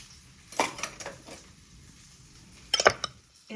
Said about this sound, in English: Now, I'm going to stir this to combine.